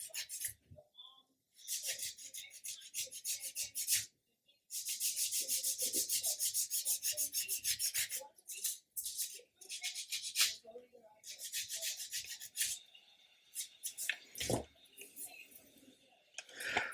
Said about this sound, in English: So I'm going to do that with a sponge. So this is a 400 sponge, so quite aggressive, but we want to take material out fairly quickly.